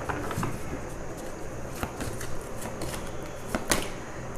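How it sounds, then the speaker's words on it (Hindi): Tarot cards being shuffled by hand, a soft continuous riffling and sliding of card stock with a few sharper flicks, close and fairly quiet, with faint voice in the background. "शफल ही तो कर रही हूँ"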